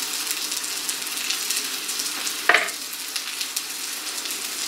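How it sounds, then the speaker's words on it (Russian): Bread slices topped with potato fry in a pan, a steady crackling sizzle throughout with a single sharp clatter midway, close and fairly loud, no voices. "Все, обжариваем остальной хлеб."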